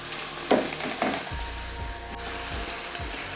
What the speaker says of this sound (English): Our onion has been frying for about 3 minutes, so we'll go in with our blended pepper mixture.